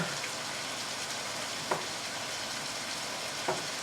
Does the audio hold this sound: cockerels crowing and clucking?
no